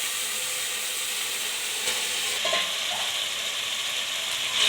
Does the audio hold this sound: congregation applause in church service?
no